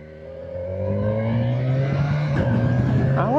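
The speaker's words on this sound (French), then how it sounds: "Là, c'est la reprise des essais moto" Motorcycle engines rev up and accelerate on a test track, the whine climbing in pitch as they pass fairly close, loud and continuous.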